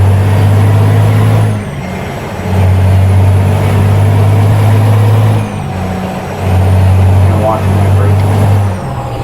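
A heavy truck in American Truck Simulator revs its engine in loud low droning surges, dropping between pulls, with a brief hiss near the end.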